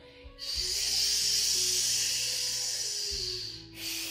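A long, breathy hiss made by a human voice imitating an angry cat, sustained for about three seconds with a quiet breath before and after.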